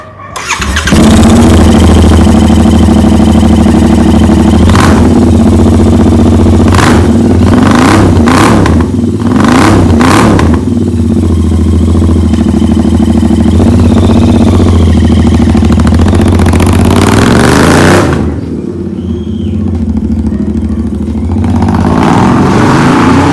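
A K-Speed custom Royal Enfield Continental GT 650 motorcycle engine cranks and fires up, then settles into a steady, loud idle with a few quick throttle blips, close by.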